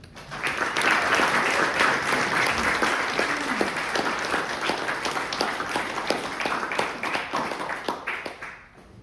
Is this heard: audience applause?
yes